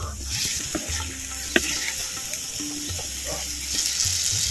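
Masala sizzling in bubbling oil for a mushroom and varagu millet rice dish, a steady close hiss with a few faint clinks and low background hum, no talking.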